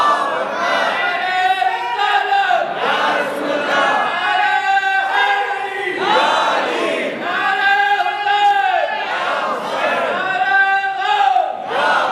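A large crowd at a Shab-e-Barat religious gathering chants slogans that begin with the Takbir. Loud, rhythmic mass shouts repeat in regular call-like waves, each followed by a short pause.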